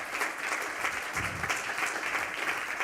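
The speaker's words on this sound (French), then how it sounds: "On peut vous applaudir, merci." Applause from a conference audience, a steady short burst of clapping filling the room with no voices over it.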